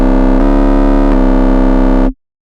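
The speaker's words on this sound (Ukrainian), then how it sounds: "у нас з'являється такий крутий перегружений звук" A heavily overdriven, distorted sine-wave synth bass with an added oscillator three octaves higher drones as one loud, sustained, buzzy note with slight rhythmic pulses, then stops abruptly into silence.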